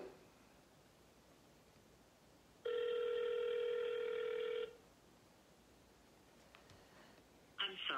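An outgoing phone call rings once on the line, a steady two-second electronic ringback tone heard faintly through a handset amid quiet room hiss and slight rustling.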